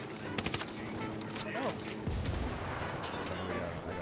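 Gunfire in the video game Ghost Recon Wildlands comes as dense, loud, rapid bursts of automatic fire and booming shots that overlap through the whole short stretch of combat.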